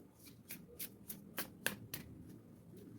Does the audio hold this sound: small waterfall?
no